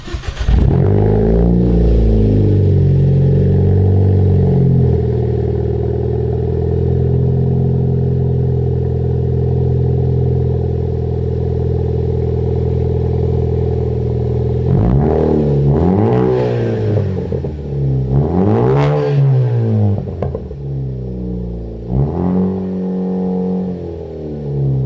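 A Ford Focus ST with an aftermarket catback exhaust drives along with a loud, steady droning note, then climbs through several sharp rev surges in the later part.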